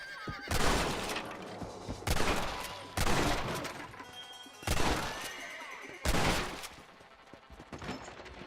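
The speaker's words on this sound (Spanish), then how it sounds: "Shoot that door open." Gunfire in the Red Dead Redemption video game as a boarded-up door is shot open: five loud, sharp gunshots spaced about a second or more apart, each with a booming tail, and no talk.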